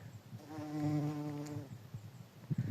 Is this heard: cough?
no